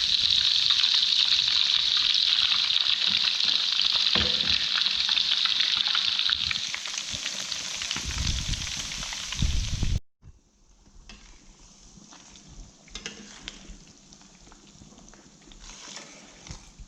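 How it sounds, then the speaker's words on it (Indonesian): Chicken meat mixed with batter fries in a pan, a loud, dense sizzle with stirring and scraping that abruptly drops to quieter, intermittent crackling partway through. "masukkan daging yang telah dicampur dengan adonan ke dalam panci sedikit demi sedikit dan hingga berwarna kecoklatan"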